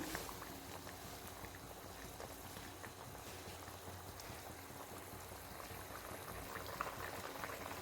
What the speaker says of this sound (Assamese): মাছখিনি দিও 10 মিনিটমান সময় উতলিবলৈ দিম।